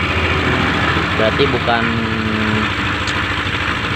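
A Yamaha NMAX scooter engine idles steadily nearby with a fine rattling noise coming from inside, while someone speaks briefly over it.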